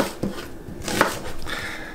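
A knife chops onions on a cutting board in a few quick, sharp knocks, close and clear, with no voices.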